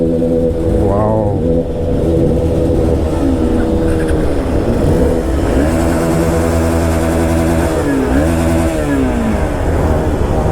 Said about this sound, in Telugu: చలో బైక్స్ అయితే స్టార్ట్ అవుతున్నాయి గైస్.